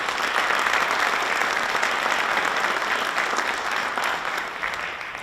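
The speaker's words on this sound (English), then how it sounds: "So let's give John and Chris a round of applause." Sustained, dense applause from a large audience at a university Founders Day celebration, honoring John and Chris, steady and loud throughout before tapering slightly at the end.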